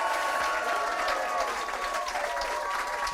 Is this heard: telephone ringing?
no